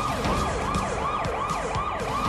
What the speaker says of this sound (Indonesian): ia terpaksa melakukan dengan satu-satunya cara, yakni membunyikan sirene mobil